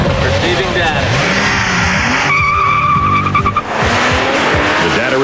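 A 1998 Porsche Boxster with a mid-mounted 24-valve 2.5-liter engine making 201 horsepower roars hard and continuously, with tires squealing and skidding, while a voice talks over it.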